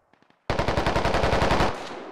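Heavy machine gun fire in the military shooter game Squad: a faint tapping at first, then a sudden loud sustained burst of rapid, evenly spaced shots lasting over a second before trailing into an echoing tail.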